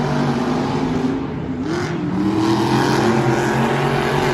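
Monster trucks race at a Monster Jam event in Orlando, Florida, their engines droning loud and continuous with rising and falling revs, set against steady crowd and arena noise.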